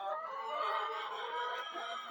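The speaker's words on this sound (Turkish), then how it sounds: "Şurada bir tane horozumuz var." A rooster crows nearby in a single drawn-out call, fairly faint against a quiet background.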